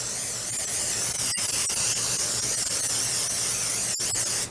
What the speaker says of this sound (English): And we'll spray this one just as well.